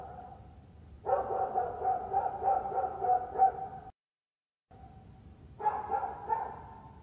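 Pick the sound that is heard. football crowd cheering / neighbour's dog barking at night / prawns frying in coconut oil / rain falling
neighbour's dog barking at night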